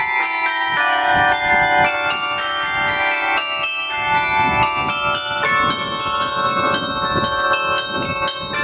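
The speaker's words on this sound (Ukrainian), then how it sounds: "Карельйон особливо нас уразив." Carillon bells ring continuously in layered, overlapping tones, loud and sustained throughout with no speech.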